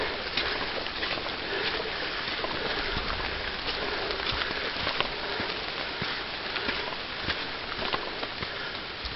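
Steady rain patters on the ground and foliage along a hiking trail in Tennessee, a continuous soft hiss with occasional louder drops, no voices.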